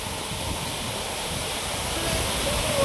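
Moopun Falls in the East Jaintia Hills of Meghalaya sends out a steady broadband roar of rushing water that stays loud and constant throughout, with no talking.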